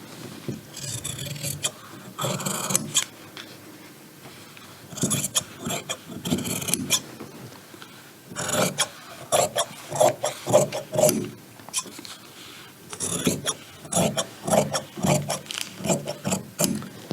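Scissors cut through a paper pattern and fabric for lengthening trouser crotch pieces, giving bursts of crisp rasping snips separated by short quiet gaps, close and fairly loud.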